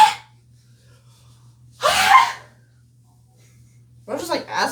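A person sneezes with a short, sharp burst near the middle, set apart by quiet stretches, with a breathy vocal sound at the start and more voiced sounds near the end.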